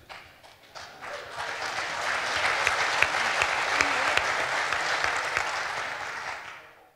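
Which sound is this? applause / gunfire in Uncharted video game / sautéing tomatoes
applause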